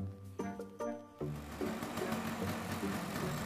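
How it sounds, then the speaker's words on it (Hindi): A scooter engine runs close by, a steady, buzzing rattle that kicks in after about a second, following a few brief tonal notes, and continues evenly to the end. "देख तेरे पापा की स्कूटर की आवाज"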